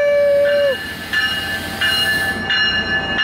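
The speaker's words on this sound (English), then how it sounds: "Here comes the train!" A train rumbles past nearby, with a brief horn-like tone at the start and steady rail clatter and ringing tones after.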